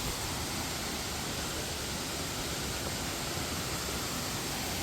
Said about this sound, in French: La petite cascade là.